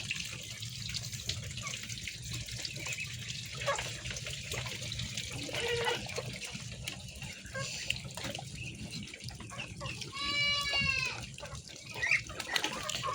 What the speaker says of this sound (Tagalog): Gutom na rin yung kambing, sumisigaw na.